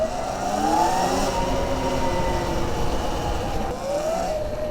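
A Sur Ron electric motorbike fitted with a 54-tooth sprocket pulls away at full throttle, its motor whine rising steadily in pitch over continuous wind and road rush.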